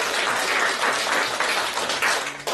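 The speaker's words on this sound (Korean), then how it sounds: "격려 박수 한번 보내주세요." Audience applause at a cultural heritage society lecture, with a dense, even wash of clapping from a seated crowd that holds steady throughout and is heard on its own, without talk.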